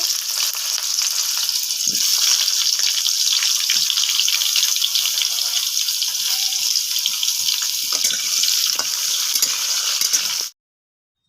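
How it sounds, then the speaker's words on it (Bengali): Potatoes fry in mustard oil in a kadai, giving a loud, continuous close-up sizzle that runs unbroken before stopping abruptly. "এবার আলুগুলোকে ভেজে নেব।"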